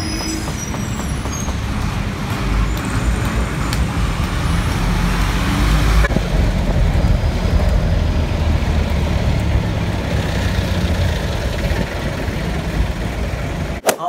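Heavy highway traffic rumbles close by, a loud continuous roar of passing vehicles with some high squeals and rattles, steady throughout before a sharp knock at the very end.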